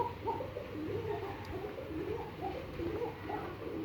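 Pet pigeons coo softly on a rainy day, several low rolling calls repeating throughout at a moderate distance, quiet and without talk.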